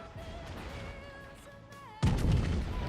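Main guns of the French battleship Jean Bart firing high-explosive shells in World of Warships: a steady tonal hum gives way to a single sudden, loud, booming salvo that rolls on to the end.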